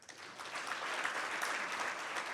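An audience applauds for a Douglas County commissioner at a county address, the clapping swelling quickly into a steady, moderately loud patter of many hands.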